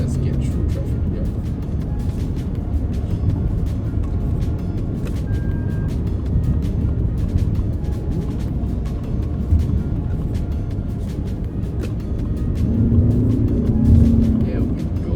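A 2023 Lexus RX350h hybrid pulls through traffic with a steady, broad drone of engine and road noise heard from inside the cabin, which swells briefly as it accelerates near the end.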